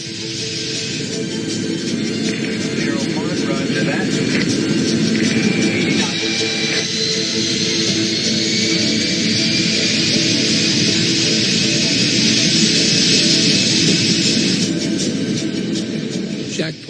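Boeing 747 jet lifting off the runway, a loud sustained engine roar with broad rumble and a rising whine throughout, steady and continuous with no talk.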